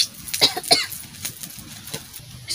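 A few short close coughs from dried-chili frying fumes, dry bursts spaced unevenly over a quiet kitchen background.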